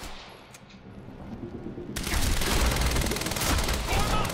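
Rapid automatic gunfire from a weapon in the video game Quantum Break, a quiet lead-in and then a loud, dense burst of sustained firing that runs to the end.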